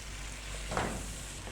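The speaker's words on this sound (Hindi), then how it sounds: "मसाले डालने के बाद हम इसको चिकन के साथ भून लेंगे।" Chicken pieces and spices frying over a medium flame for nihari, giving a soft, steady low sizzle with a brief swell of stirring noise midway, no voices.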